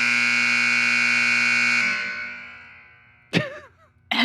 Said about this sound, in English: I'm turning off the buzzer